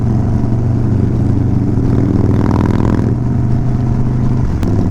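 Cammed-up Harley-Davidson 110 motorcycles at a rod and custom show and shine give a loud, continuous low rumble, swelling with a brief rev midway before settling back to a throbbing idle.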